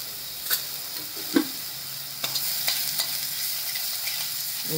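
Turmeric-spiced masala for cowpea pod vegetable sautéing in a pan, giving a steady soft sizzle with occasional stirring clicks and scrapes, fairly quiet and with no talking.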